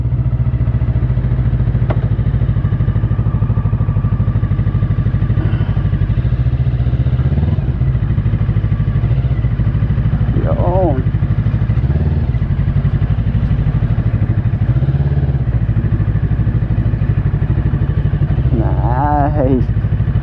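An FKM Falcon x400 400cc motorcycle running close by, a loud steady low engine throb idling throughout, with brief pitch shifts and occasional clatter.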